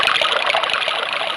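Water poured into English liquor to dilute it, a loud, close, continuous splashing trickle lasting about a second and a half, with no talk.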